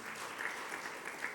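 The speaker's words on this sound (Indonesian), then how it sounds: "Beri tepuk tangan yang meriah bagi Tuhan kita." A church congregation at a Sunday worship service claps together in a steady, dense wash of applause that fills the short moment without pause.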